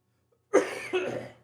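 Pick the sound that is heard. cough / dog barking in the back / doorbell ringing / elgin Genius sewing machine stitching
cough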